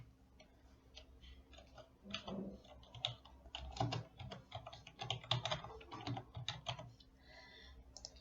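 Quiet, rapid tapping on a computer keyboard as a sentence is typed, with irregular bursts of clicky keystrokes and brief pauses between words, heard close and alone.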